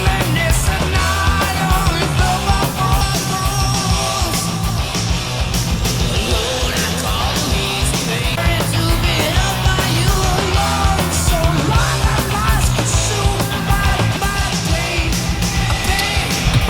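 The closing breakdown of a heavy metal song in its 2004 remix, loud and dense with driving distorted guitars, pounding drums and shouted vocals, continuous throughout.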